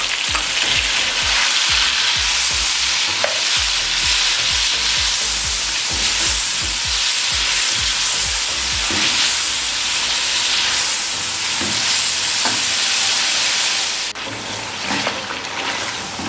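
Chopped tomatoes with ginger and garlic fry loudly in a hot karahi, a dense, steady sizzle and hiss running throughout with occasional stirring clatters, easing slightly near the end.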